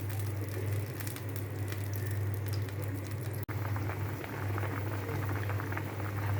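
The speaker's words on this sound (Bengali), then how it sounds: "একটু জাল হতে থাকুক।" Taro stolons simmer in salted water with turmeric, giving a steady close bubbling patter over a constant low hum from the stove, with one sharp click partway through and no talk.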